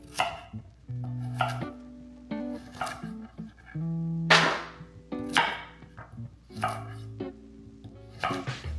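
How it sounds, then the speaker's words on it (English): A knife chops carrots into bite-sized chunks on a board: a close run of sharp, hard thuds and clacks in irregular bursts, with tonal ringing between some strikes, and no speech. "I'm gonna take these carrots that I have here and we're just gonna cut them into like bite-sized chunks"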